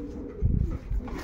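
Low, throaty cooing from a young male racing pigeon, a crossbred bird, coming in soft repeated pulses close to the microphone.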